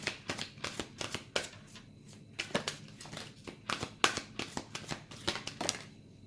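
Tarot cards are shuffled and drawn close by in quick, papery riffles and flicks, a steady rhythm of crisp bursts with no talk.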